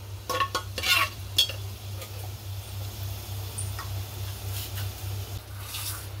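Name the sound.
whole spices crackling and frying in oil in pressure cooker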